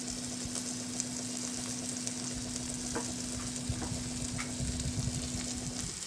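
Ground cumin and coriander spices with chili flakes are stir-fried in a pan for chicken ball gravy, giving a continuous sizzle with scraping stir strokes and a faint steady hum underneath.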